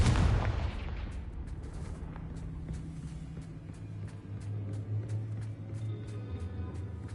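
A Confringo explosion spell cast in the Hogwarts Legacy video game bursts loudly at the start, a deep booming blast that decays into a low rumbling tail with faint clicks and tones.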